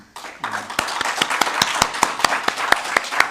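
A church congregation on Easter Sunday claps together in welcome, sharp rhythmic hand claps ringing out close and steady after a brief lead-in, with scattered voices underneath.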